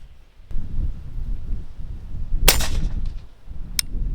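A Rossi Brawler fires a 300 Blackout subsonic 200 grain FMJ round outdoors, one sharp loud crack about midway, then a fainter short snap later, over breezy wind rumble on the microphone, with no talking.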